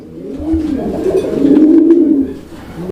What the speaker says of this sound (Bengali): আর ডাক দেখছেন কি কোয়ালিটির ডাক একদম উড়া ধুরা ডাকের কবুতর